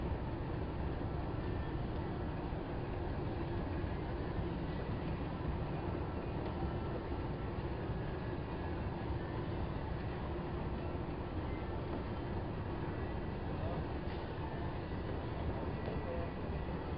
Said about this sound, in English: We are going to take the People Mover train to Concourse D